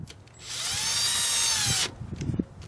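A power drill runs continuously for about a second and a half, driving screws into a Rekluse EXP clutch on a BMW F800GS motorcycle, with a steady whine that starts and stops abruptly, followed by faint handling noises.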